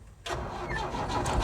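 A Tata 1109 BS3 truck with a faulty flywheel RPM sensor cranks and its engine catches after a brief quiet moment, then holds a loud, steady, rough running roar up close.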